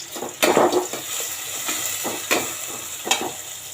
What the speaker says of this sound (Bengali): এদিকে আমার পেঁয়াজটা বেরেস্তা হতে থাক